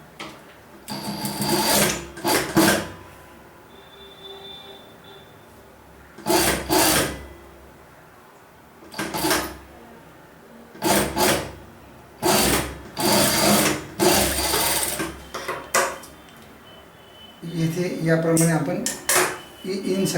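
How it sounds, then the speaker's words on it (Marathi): A sewing machine stitches the inside seam of a pair of shorts, running in short, loud bursts separated by pauses, with a faster rattling run near the end. "ही इनसाईड आपण शिवून घेणार आहोत"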